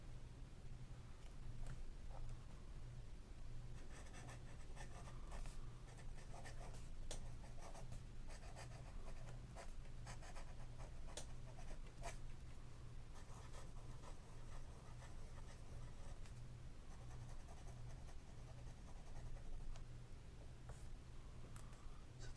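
Dollar Tree fountain pen scratching steadily across paper, a dry, toothy writing sound with continuous strokes and small ticks, close and quiet, with no talking.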